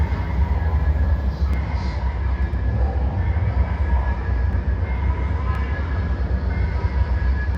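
Continuous rumbling roar of the Ghost in the Machine roller coaster running at a construction site, steady and fairly loud throughout with no talking, a distant ride noise blended with outdoor ambience.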